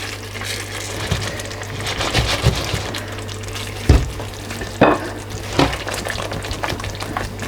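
Seekh kebabs laid one by one into a pot of simmering masala for a seekh kebab curry, giving a steady close sizzle and bubbling with several sharp knocks and scrapes as they are moved around.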